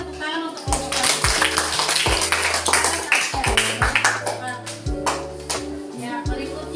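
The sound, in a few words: applause for group 1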